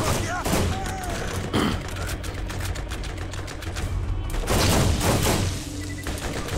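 Borderlands gunfire in Krom's Canyon: a dense, continuous barrage of rapid shots and impacts, loud and close, with talk mixed in.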